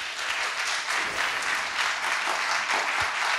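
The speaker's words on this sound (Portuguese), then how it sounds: "Aplausos" Audience applause at the opening session of a Wikipedia community conference, steady and dense with many hands clapping together, filling the room at an even level for the whole stretch.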